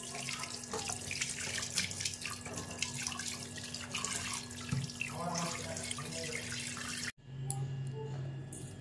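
Hilsa fish are washed under a running kitchen tap. A steady, moderately loud gush of water with faint splashing runs throughout, broken by a short pause near the end before the flow resumes.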